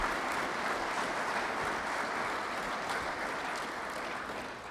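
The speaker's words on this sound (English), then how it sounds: "I want you to give him a round of applause as well, Garrett, and our thanks." Steady, dense applause from an audience at an athletic director's introductory press conference, honoring the interim leader; the clapping stays loud and even throughout, easing slightly toward the end, with no one talking over it.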